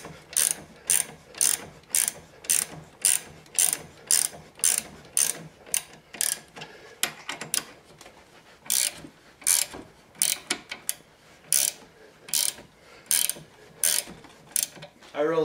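A ratchet wrench clicks in rapid, regular bursts while torquing down a transmission drain bolt whose hole threads had been stripped. The close, crisp ratcheting strokes repeat steadily, with a few irregular shorter bursts midway.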